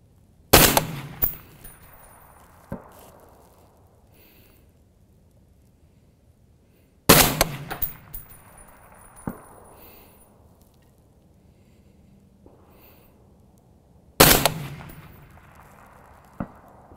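Three loud, sharp rifle shots from a Wilson Combat 6.5 Creedmoor gas gun, spaced several seconds apart, each followed by a faint metallic ping of a steel plate at long range and a decaying echo.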